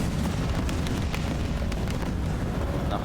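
Tank cannon fire in the ground battles of War Thunder: a dense, loud rumbling roar of gunfire and engine noise that fills the short stretch without pause, with a few crackling bursts on top.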